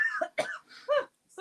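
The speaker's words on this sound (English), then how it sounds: "Sorry, I've just got a cough." A person recovering from flu coughs a few times in short harsh bursts, close to the microphone, with brief gaps between them.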